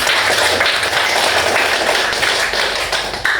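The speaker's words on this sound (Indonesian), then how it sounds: "tepuk tangan untuk kita semuanya" Primary school pupils clapping together in a classroom during a teaching lesson: loud, close, dense hand claps with a brisk, slightly uneven rhythm, continuous throughout and without talk.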